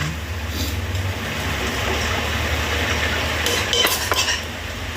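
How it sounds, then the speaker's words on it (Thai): Minced pork and Chinese kale stir-fried in a pan, a steady low sizzle with continual scraping and clinking of utensil against metal, close and fairly loud, with no voices. "หลังจากนั้นผัดทุกอย่างให้เข้ากันนะคะ"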